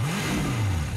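A 1940 Indian Chief motorcycle with sidecar revs its engine nearby, a low throaty note rising and then easing off over about a second, loud and steady.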